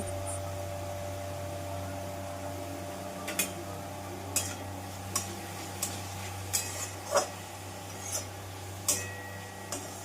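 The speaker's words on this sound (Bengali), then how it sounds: "নুন আর হলুদ দিয়ে আর কাঁচা লঙ্কা কুচিগুলোকে দিয়ে পেঁয়াজটাকে একটু ট্রান্সলুসেন্ট হওয়া পর্যন্ত ভেজে নেব।" Chopped onion fries in oil with salt, turmeric and green chilli, stirred with a series of light, scattered spatula taps over a faint, steady sizzle and low hum, with no talking.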